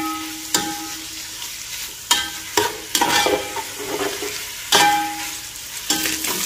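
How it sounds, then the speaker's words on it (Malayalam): Chicken fries in a pan over high heat for fried rice, loud continuous sizzling punctuated by several sharp scrapes and clatters as the pieces are stirred and tossed, with no talking. "ചിക്കൻ ഇതുപോലെ ഒന്ന് നമുക്കൊന്ന് വറുത്തെടുക്കാം."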